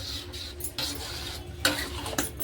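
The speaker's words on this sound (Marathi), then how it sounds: "याला सतत असं हलवत राहायचं आहे नाहीतर या स्टीलच्या भांड्याला लागतं" Raw mango and jaggery jam is stirred in a thick steel pot with a metal spoon. Several scraping strokes rasp against the pot bottom in an uneven rhythm, close and clear, with no talk.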